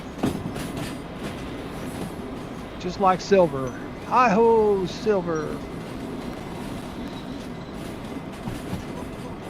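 A train rumbles steadily along the rails in the railway game Derail Valley, with faint clickety-clack throughout, while a voice talks and sings over it near the middle.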